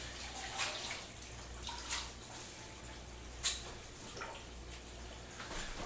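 Water runs steadily into a bathtub while a large aquarium is being refilled, a soft continuous wash with occasional small splashes and clinks, no one speaking.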